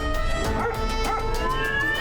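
Cartoon dogs barking, yipping and whimpering in a quick excited burst of overlapping animated voices.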